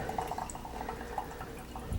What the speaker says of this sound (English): I'm going to pour that in my jar.